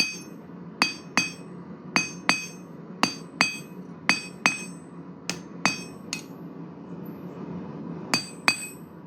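Sharp ringing hammer blows on hot metal as a taper is drawn out on a round bar, struck in quick pairs and small groups with short pauses, close and bright over a low steady hum.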